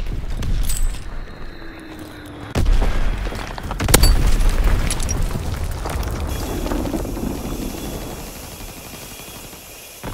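Bomb blasts in a war video game land as heavy booming explosions, two big hits a couple of seconds apart followed by a long rumbling decay and scattered crackle.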